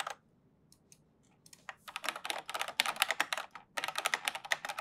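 Rapid typing on a cheap tenkeyless mechanical keyboard build, starting with a few scattered keystrokes and building into dense, clacky bursts of fast key presses close to the mic, with a brief pause before the final flurry.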